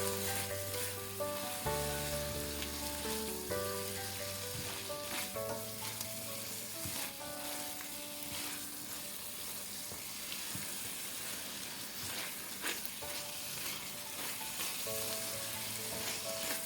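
Vegetable biryani with a spoonful of biryani masala powder is stirred in a pan, giving a steady soft sizzle and occasional scraping under continuous background music.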